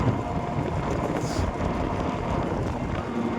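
Wind rushes over a toto electric rickshaw riding along an empty, sunny road, a loud, steady broadband roar buffeting the microphone for the whole stretch, with no voices.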